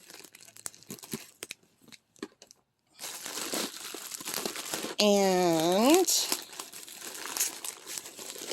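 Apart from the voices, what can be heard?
bubble wrap packaging crinkling during unboxing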